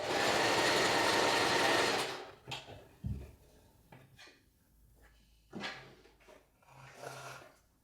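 Sewing machine running a straight stitch on a test piece of fabric, a steady loud whirring burst for about two seconds, then quiet handling clicks and soft fabric rustles.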